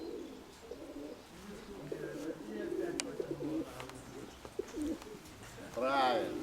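Pigeons coo softly nearby in low, throaty bursts, one louder coo near the end, with quiet talking and faint rustling in the background.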